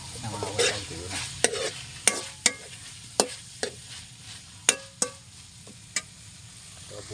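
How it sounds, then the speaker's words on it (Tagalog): Shrimp adobo frying in hot oil: a steady low sizzle broken by about a dozen sharp, loud pops and spits at irregular intervals, close by and heard alone. "Kailangan ay medyo pumuputok siya sa mantika"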